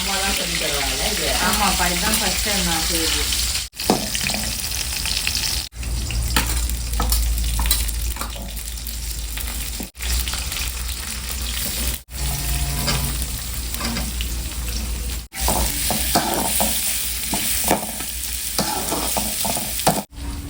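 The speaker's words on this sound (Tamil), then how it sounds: "வெங்காயம் வெங்காயம் பச்சை மிளகாய் இஞ்சி கருவேப்பிலை கடுகு இதெல்லாம் போட்டு நல்லா வதக்கியாச்சு" Onion, green chilli, ginger, curry leaves and mustard seeds sizzle and get stirred in a pan for bone-marrow biryani, a steady close frying hiss with spatula scraping, broken by a few brief cuts and with faint talk in places.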